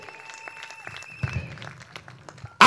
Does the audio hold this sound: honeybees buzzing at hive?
no